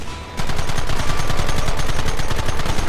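Rapid automatic gunfire in the Western video game Red Dead Redemption, a loud, sustained burst of evenly spaced shots firing without pause after a brief quieter lead-in.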